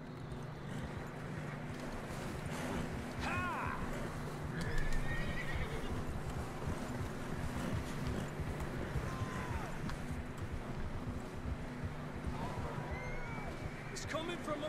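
Horses neighing and whinnying with clip-clopping hooves in Red Dead Redemption 2, several whinnies rising over a steady dense background, with voices talking throughout.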